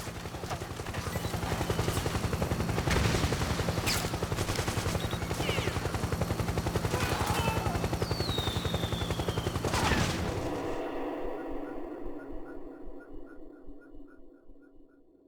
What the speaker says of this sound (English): PMC airstrike!